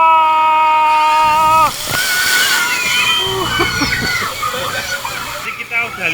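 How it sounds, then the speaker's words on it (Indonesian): Water from a tipping bucket at Kraton Waterpark in Sidoarjo crashes down in a loud close splash after a sustained tone, then churns and splatters, with crowd voices and shouts throughout. "mandi busa dan juga cipratan dari ember di Kraton Waterpark Rian Sidoarjo"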